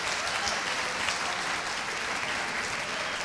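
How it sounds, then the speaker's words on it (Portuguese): An audience applauds steadily as a guest speaker, an archaeologist and pastor, is welcomed to the stage at a talk on Martin Luther and the Reformation. The dense, even clapping fills the room without any voices over it. "Queremos recebê-lo com uma salva de palmas."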